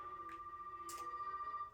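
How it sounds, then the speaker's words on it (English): A telephone rings in the Resident Evil 7 video game, a steady electronic tone with brief bursts over a quiet game background, no talk. "Phone."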